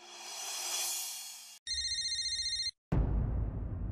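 A phone ringtone from repeated incoming calls sounds as a brief, evenly pulsing electronic tone, cut off abruptly between stretches of hiss and noise.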